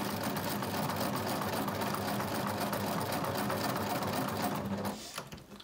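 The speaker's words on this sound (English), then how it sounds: "reduce my stitch length down to 1 and finish sewing" A sewing machine stitching a dart at a short stitch length of 1, running close and steady with a fast even whirr before stopping just before the end.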